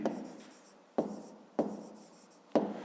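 A pen writes a math solution on paper in four distinct scratchy strokes, each starting sharply and trailing off, close and quiet with no talk.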